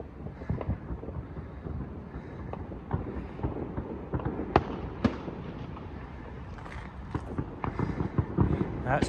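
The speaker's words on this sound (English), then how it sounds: "You can hear all the fireworks." Fireworks crackle and bang across a town on bonfire night in Airdrie, Craigneuk, a continuous mid-distance barrage of pops and sharper reports under wind noise.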